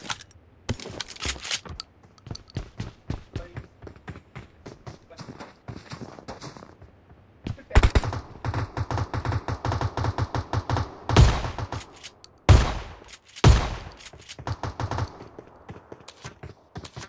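Gunfire in the PUBG Mobile video game on the Vikendi map, bursts of rapid sharp shots and single cracks, with several louder, closer blasts near the end and a voice speaking briefly.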